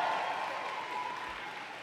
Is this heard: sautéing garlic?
no